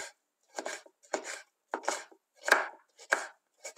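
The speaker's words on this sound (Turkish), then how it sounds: "biberimizi içlerini ayıkladıktan sonra ince ince doğruyoruz" A knife finely chops seeded bell peppers on a board, six or seven quick bursts of crisp, close cutting with short silent gaps between them.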